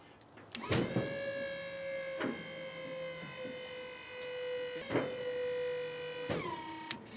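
A homemade hydraulic pump for a grapple bucket, switched by remote control, whines with a steady electric tone that starts and stops several times in short bursts, each run ending with a clunk, close and alone.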